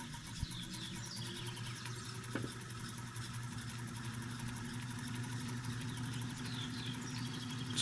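An electric drive motor fed through a Variac spins a generator on a workbench, giving a steady mid-pitched hum and whir that runs evenly throughout with no talk, rising slightly toward the end.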